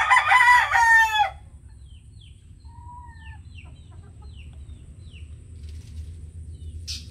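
A rooster crows loudly and close at the start, followed by softer chicken clucks and chirps over a low, steady farmyard hum.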